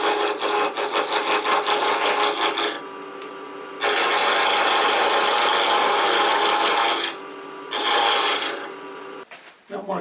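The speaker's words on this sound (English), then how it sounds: "I'm going to use a 1/2 inch spindle gouge" A 1/2 inch spindle gouge cuts wood spinning on a lathe, giving loud, close rasping bursts with a rapid rhythmic chatter, broken by short quiet gaps as the tool lifts off.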